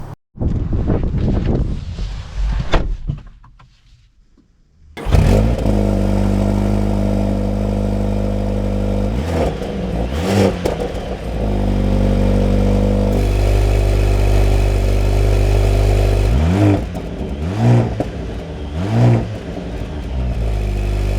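A 2024 Mercedes-AMG GLC 43 SUV pulls away with a loud, steady engine drone and rising revs heard from inside the cabin, with wind rushing over it and no talking.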